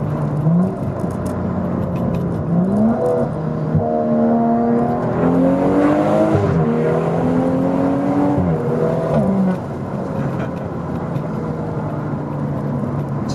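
A BMW M235i engine revs hard while driving on a canyon road, its pitch climbing and then dropping sharply with each quick gear upshift, repeated several times against a steady road rumble.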